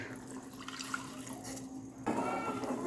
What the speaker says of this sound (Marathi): दीड कप दूध मी याच्यामध्ये टाकून घेतलेलं आहे